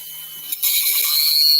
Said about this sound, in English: burr that little area out